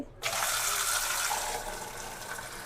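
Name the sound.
water poured over eggs in a pot for boiling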